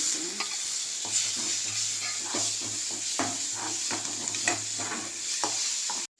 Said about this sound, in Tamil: வெங்காயம் பச்சை மிளகாய் கருவேப்பிலை போட்டு வதக்கிட்டு